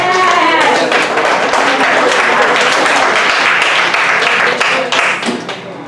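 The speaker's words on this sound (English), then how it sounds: "give yourselves a round of applause" A group claps together in loud, sustained applause for nearly six seconds, with voices mixed in, and it eases off slightly toward the end.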